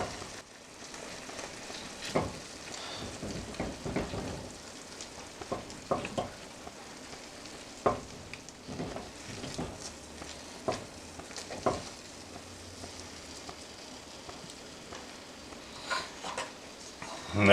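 A potato masher works through food in a pot while mole poblano chicken is being made, giving soft irregular squelches and thumps that repeat for a long stretch, fairly close, with no talking over them.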